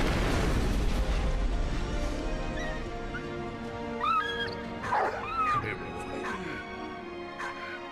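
A cannon fires in the World War I video game Soldats Inconnus, a deep booming rumble at the start that fades into a long low roar, with brief higher tones and a voice-like sound later.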